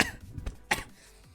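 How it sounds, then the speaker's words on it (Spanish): A person coughs a few times in harsh bursts, one near the start and a louder one mid-clip, close and alone with no talk. "no paro de toser"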